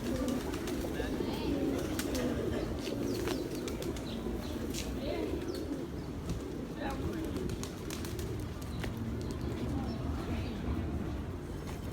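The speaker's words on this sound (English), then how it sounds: "Parque de las Palomas means Park of the Pigeons." A flock of pigeons in Pigeon Park, Old San Juan, Puerto Rico coos continuously at close range, with wings flapping and fluttering throughout against a busy outdoor background.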